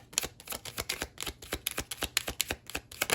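Tarot cards being shuffled: a quick run of crisp, snapping riffles and soft slaps, close and distinct, repeating in an uneven rhythm with no voice over them.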